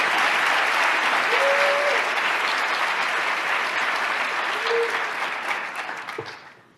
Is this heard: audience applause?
yes